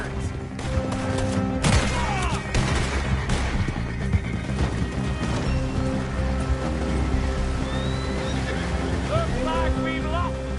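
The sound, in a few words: gunfight in Red Dead Redemption 2, video game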